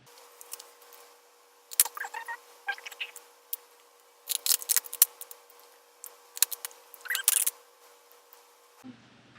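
Scissors trim the edges of a handmade Pokemon card bag in short clusters of sharp snips and rustles, separated by quiet gaps, heard close up with no one speaking.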